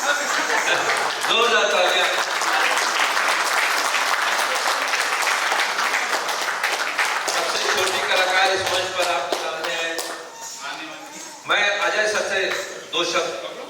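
Audience applause at a stage felicitation ceremony swells into sustained, crackling clapping that fades and surges again, with voices faintly mixed in.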